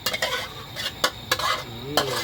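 Bamboo shoots with pork stir-fried in a hot pot, with steady sizzling and repeated scraping clanks of a utensil against the metal.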